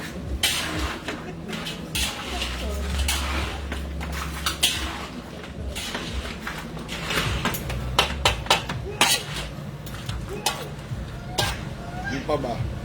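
A pan of crabs being mixed while cooking, with metal utensils scraping and clattering in an irregular rhythm against a steady background hum, close and clear, while people talk intermittently.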